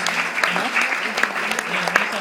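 Applause from an audience of Team Philippines organization workers at a gathering, a steady patter of clapping with a voice faintly mixed in.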